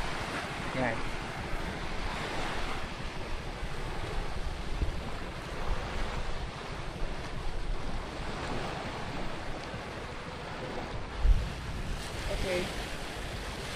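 Choppy sea waves off Coron in the Philippines wash and slosh continuously under steady wind buffeting, with a person speaking briefly over the water noise.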